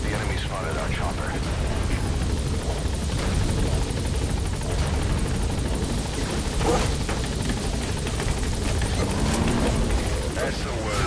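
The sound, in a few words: support chopper flying in Metal Gear Solid V video game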